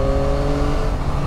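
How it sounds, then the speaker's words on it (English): Yamaha Tracer 9GT motorcycle with the CP3 900cc triple engine, running steadily in a short, loud and close burst of engine drone, with no voices. "it's that engine, that CP3 triple 900cc motor"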